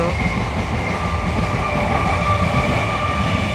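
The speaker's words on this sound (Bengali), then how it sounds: "ট্রেনটা এদিক থেকে যাচ্ছে দেখা যাচ্ছে না গাছের জন্য একটু একটু বোঝা যাচ্ছে শব্দটা শুনতে পাচ্ছ" A train roars by nearby, hidden behind trees, a continuous heavy rumble with faint clacking wheels and a high metallic whine, loud throughout.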